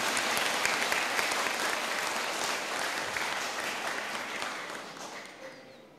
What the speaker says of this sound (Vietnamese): Hãy dành một tràng vỗ tay thật lớn để vui mừng chung.